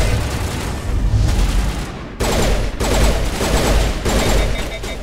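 Rapid auto pistol gunfire in Mass Effect 1 Legendary Edition, dense bursts of shots over a loud roar of combat, with a brief pause before the firing picks up again in repeated volleys.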